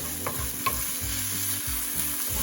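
Rice fries in a pan with ketchup, a close, steady sizzle with brief scrapes and clicks of a utensil stirring through it.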